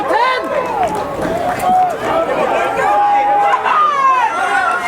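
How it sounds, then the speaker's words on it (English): A rugby crowd at Dubai Sports City roars and shouts steadily through a tense late stage of a UAE Premiership match between Dubai Tigers and Dubai Exiles, with high whooping voices rising over a constant loud hubbub. "as you can hear, the roars from the Exiles crowd."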